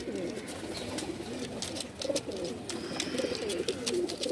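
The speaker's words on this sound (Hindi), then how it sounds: "ये जोड़ वाले कबूतर मैं आपको स्टार्टिंग में दिखा रहा हूँ" Pigeons coo steadily at a pigeon sale in Bhopal, several birds close by making overlapping soft, throaty calls over a busy low murmur, with occasional higher chirps.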